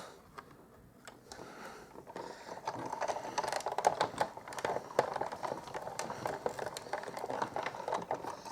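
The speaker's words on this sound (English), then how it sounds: "so I'm going to cut out now 2 branches" Scissors snip through stamped paper branches for a card in quick, close, irregular cuts, getting busier after a quiet start.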